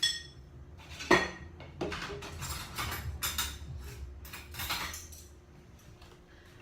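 Metal spoons and cutlery clink and rattle as someone rummages through a home kitchen drawer, with one sharp clatter and scattered lighter jingles, fairly close, and a brief spoken word near the end.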